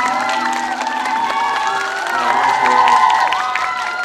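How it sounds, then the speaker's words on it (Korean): Audience at a Blue Dragon Film Awards hand printing event cheers and applauds as an actor is introduced, a dense crowd roar with whoops and steady clapping that swells near the middle, a distant voice faintly heard underneath. "큰 박수 부탁드리겠습니다."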